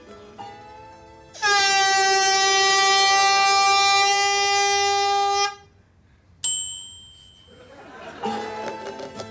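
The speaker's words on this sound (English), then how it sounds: "I'm going to blow the air horn" A handheld air horn blasts loud and steady for about four seconds, then a second brief blast follows after a pause, with rustling noise at the end.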